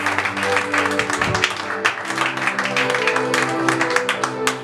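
A church congregation applauds and cheers, with dense, continuous clapping layered over sustained organ or keyboard chords and crowd voices.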